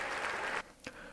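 A round of applause during a livestreamed awards show: broadband clapping fills the first half-second, then breaks off into near silence with one short sharp noise.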